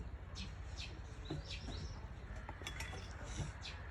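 Birds chirp and tweet in short scattered calls over a quiet outdoor background, faint and somewhat distant.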